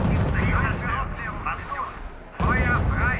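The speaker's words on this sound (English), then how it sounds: "Unit under sustained fire." Sustained gunfire and artillery in the R.U.S.E. strategy game rumble as dense, continuous low booms and bursts, with a clipped radio-style voice talking over them throughout.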